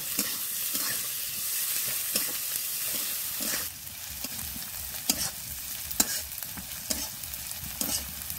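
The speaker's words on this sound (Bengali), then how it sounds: "কুচি করা পেঁয়াজ, পেঁয়াজটা ভালো করে ভেজে নেব।" Chopped onions frying in a pan, stirred often. Bright sizzling stays constant, with a louder stretch at the start, and scraping strokes come at uneven intervals, close and moderately loud. No one talks.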